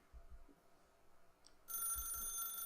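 An old-style office telephone in The Stanley Parable starts ringing abruptly after soft low thuds, a bright continuous bell trill that holds steady and loud to the end.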